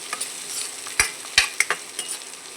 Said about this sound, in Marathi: आता आपल्याला कांदा चांगला लालसर, लालसर असा नाही, परतून घ्यायचा आहे तेलामध्ये चांगल्या प्रमाणे